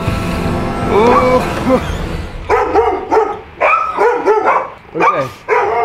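Dogs at a home with horses bark repeatedly in short, loud bursts, one after another, with a busy, noisy background at the start.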